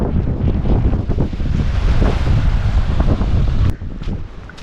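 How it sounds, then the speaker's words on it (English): Strong wind buffets the microphone by the sea at Galle, Sri Lanka, a continuous loud roar with a muffled surf wash beneath it, easing slightly near the end. "I hope you can hear me with the wind because this is, yeah, obviously the sea."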